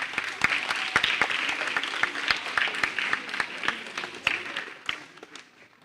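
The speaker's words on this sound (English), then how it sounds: "Clap for Miss Alicia." Audience at a Year 6 school graduation ceremony clapping for the pastoral care head, Miss Alicia: a scattered crowd of hand claps with distinct sharp individual claps standing out, steady at first and then fading toward the end.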